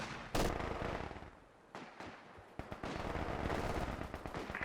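Gunfire and machine gun bursts crackle in a Company of Heroes 2 battle, with sharp shots and sustained rattling volleys over a dense combat backdrop, loud and continuous with no voices.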